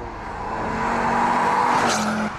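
Drift car with far too much power for its size, engine roaring as tires squeal in a long sustained screech that builds and holds before fading.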